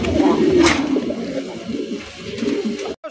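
Pigeons coo steadily on a pigeon farm, a continuous murmur of overlapping low calls close by, broken by a brief drop near the end.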